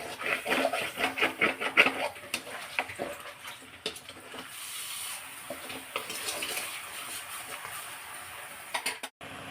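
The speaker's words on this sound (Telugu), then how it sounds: "ఒక గ్లాస్ వాటర్ వేస్తాను నేనండి." A glass of water pours into frying chicken masala in a pan for a Telugu chicken roast, a splashing, sizzling burst with faint tapping clinks through most of the stretch, cutting off abruptly near the end.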